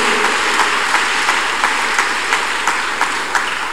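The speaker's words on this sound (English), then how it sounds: "Clap your hands unto God of the choosing." Worshippers at a Thursday counselling and deliverance church service clap their hands together, loud and continuous, with a faint regular beat running through the crowd's applause.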